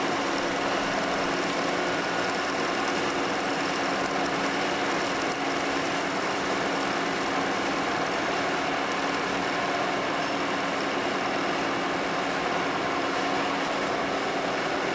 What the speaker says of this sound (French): Nous dégageons la fraise, la rainure de clavette est maintenant terminée.